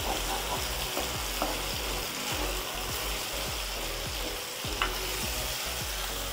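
Steady loud sizzle of food frying in a pan while pulao is being made, with a continuous hiss broken by repeated stirring scrapes and clinks of a spoon against the pan.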